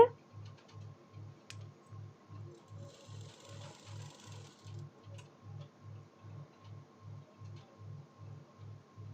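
Sewing machine stitching lining around the neck of a blouse, a steady fast rhythmic clatter of needle strokes running evenly throughout at moderate volume.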